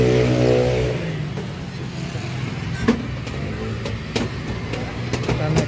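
A Bandros open-top tour bus in Bandung runs with its engine revving, loud at first and then settling to a steady mid-pitched hum under speech and scattered clicks and knocks.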